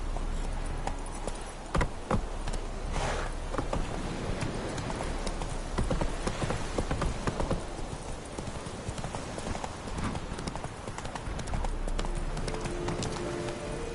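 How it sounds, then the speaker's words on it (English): A horse's hooves clip-clop rapidly and steadily in The Witcher 3 as the mount gallops, loud and close throughout, with game ambience in the background. "Whoa there, Roach."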